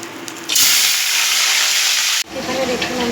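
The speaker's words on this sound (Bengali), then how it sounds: "কড়াইতে তেল দিয়ে দিয়েছি, মাছগুলো এবার আমি ভেজে নেব।" Salted, turmeric-coated katla fish pieces dropped into hot oil in a wok, setting off a loud, sudden hiss of sizzling that holds for nearly two seconds, then drops to a quieter, crackling fry.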